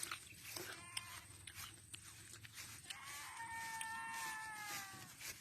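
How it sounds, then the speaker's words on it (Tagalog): A goat bleats in a faint, wavering call out in an open field, rising toward the end over quiet outdoor background noise. "Kambing ho yun."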